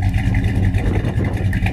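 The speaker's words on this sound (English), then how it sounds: "Dual exhaust sounds awesome too." A 1967 Dodge Coronet running through its dual exhaust, a short burst of deep, throaty engine rumble with a steady low pulse, heard close and loud without talk.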